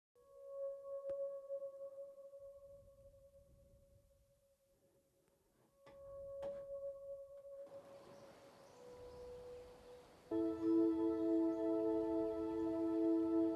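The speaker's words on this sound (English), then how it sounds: "It's a pedal steel, which I created using the sculpture plugin." A smooth synthesized pedal steel guitar tone, made with a Sculpture plugin, holds sustained notes, gliding between pitches, then swells into a fuller layered chord near the end.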